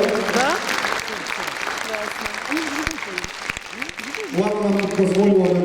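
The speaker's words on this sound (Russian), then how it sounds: "Ваши аплодисменты громче!" Sustained applause from a concert audience roars throughout, while voices speak and sing over it, the clapping swelling louder toward the end.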